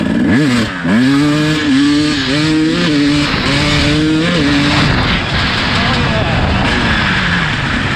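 A two-stroke motorcycle with a fresh top end revs hard in fourth gear, the wheel lifting as its loud, close engine note climbs sharply in pitch and then holds a raspy, steady howl.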